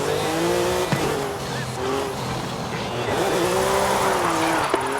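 A Volkswagen Beetle drifting in Forza Horizon 5 on a Guanajuato circuit, tires squealing in long wavering screeches over a steady engine drone, with a couple of sharp knocks, loud and continuous throughout.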